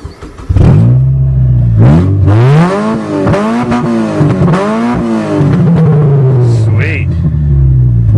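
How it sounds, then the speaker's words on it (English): A 1997 Mazda Protege with no exhaust fitted revs loud and close, its raw engine note rising and falling through several throttle blips before settling to a rough idle. "let's see how she sounds. She's already got no exhaust."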